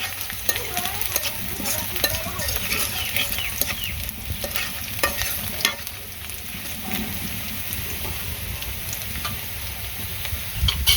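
Bora fritters frying in a pan give a steady, close sizzle with soft stirring scrapes, with no talk over it.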